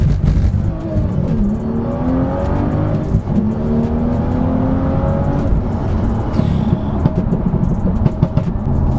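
A tuned BMW M2 accelerates hard from 20 to 70 mph, its engine note climbing steadily through several gear changes, loud and close with a continuous rising roar and brief dips between shifts.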